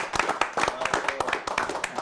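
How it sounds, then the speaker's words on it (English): A small group claps in irregular, fairly quiet applause, each clap distinct and close, with speech mixed in among the claps. "Big round of applause from the Horn Hangout."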